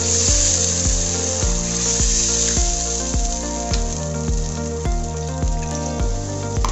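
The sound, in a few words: water poured into sizzling tomato fish curry pan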